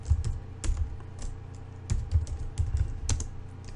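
A command is typed on a computer keyboard in a Docker cleanup session, giving sparse, uneven taps and clacks at moderate volume with short pauses between bursts, close to the mic and with no one speaking.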